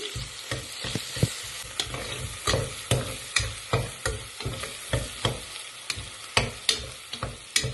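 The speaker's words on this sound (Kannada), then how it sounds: "ಲೈಟ್ ಗೋಲ್ಡನ್ ಬ್ರೌನ್ ಬರೋವರೆಗೂ ಫ್ರೈ ಮಾಡಿ." Steady sizzling of food frying toward light golden brown for a soy vegetable palav, with ginger garlic paste in the pan, punctuated by regular scraping stirs of a spoon against the pan.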